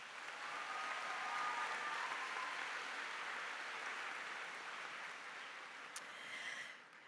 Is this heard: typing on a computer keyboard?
no